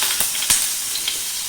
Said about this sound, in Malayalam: ബട്ടർ ഇടുക